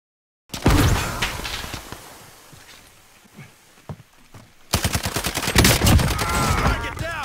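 Bursts of Call of Duty Warzone gunfire crack out loud and close, a rapid volley at the start, scattered shots in a quieter middle stretch, then another dense barrage of automatic fire near the end.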